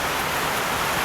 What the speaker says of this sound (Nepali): गजबले पानी पऱ्यो आज दमक साइडमा